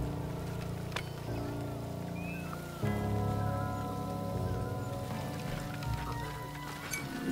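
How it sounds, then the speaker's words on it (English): Rain falls in the video game Minecraft Legends as a dense, steady wash of patter with a low rumbling bed and a few brief tones on top, continuous and fairly loud, with no talking. "It's kind of a cool rain effect"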